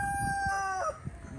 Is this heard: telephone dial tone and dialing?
no